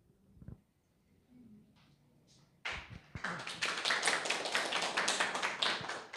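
After a few scattered taps, a crowd breaks into sustained applause that swells and continues, dense and fairly close.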